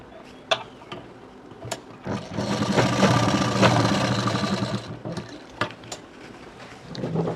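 Sewing machine running a steady stitching burst on a prince cut blouse, joining lining to main fabric, loud and continuous for a couple of seconds between softer clicks and handling taps.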